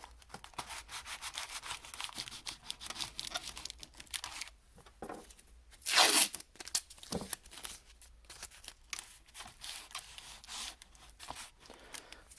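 Blue painter's tape is pulled and torn from a roll and pressed down during a Pontiac Bonneville radio repair, with bursts of crinkly ripping and rubbing and one louder tearing pull near the middle.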